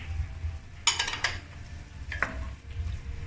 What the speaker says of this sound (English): Now you add in the prawn into it.